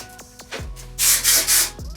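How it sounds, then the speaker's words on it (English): Several bursts of Got To Be hairspray from an aerosol can, sprayed through curled hair, come as three loud hissing blasts in a row, close by, after some handling rustle. "take some of this Got To Be hairspray and spray it through my hair"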